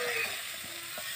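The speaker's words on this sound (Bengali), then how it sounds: "এবার মেথি শাকটা ভেজে নিব।" Fenugreek leaves fry in oil in a wok, producing a brief, soft, steady sizzle with faint stirring clinks.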